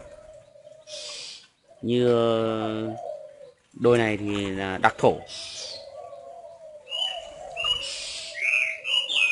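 Spotted doves coo in an aviary in Vân Hòa commune, Ba Vì, Hanoi: two loud, close, throaty cooing calls a couple of seconds apart, with someone talking quietly around them and faint chirps in the background.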